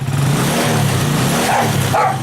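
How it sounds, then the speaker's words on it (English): A Haotian Vixon scooter engine, freshly given a carburetor service, idles fast with a loud, steady buzzing drone and slight wavering in pitch. "that's why I'm letting it idle a bit fast, so I can accurately set the fuel mixture"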